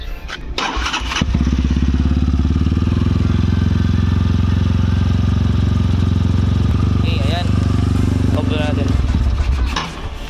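A Motorstar Xplorer 250 motorcycle fitted with a dry clutch starts up and runs at a steady, loud idle for several seconds, rattling close by before cutting off near the end, with a brief voice over it.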